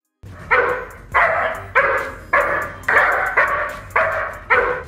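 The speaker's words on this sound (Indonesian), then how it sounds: "Si maling yang mendengar gonggongan anjingnya penjaga" A dog barks loudly and steadily, eight deep barks in an even rhythm, close by with nothing else audible.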